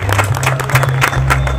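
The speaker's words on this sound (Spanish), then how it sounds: "Vamos a recibir con un fuerte aplauso a James Llosa" Applause welcoming James Llosa, mayor of Central Falls, at a community ceremony, a steady wash of clapping from a crowd that continues throughout over a low hum.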